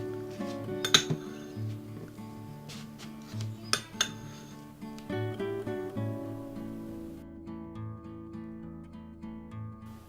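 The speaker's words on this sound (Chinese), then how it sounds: "用这种刀子刮下来的奶油呢，就可以很轻易的跟蒜头拌在一起" A knife works softened butter into chopped garlic on a plate, producing a few sharp metallic clinks and light scrapes near the start, then quieter intermittent taps over a steady tonal background.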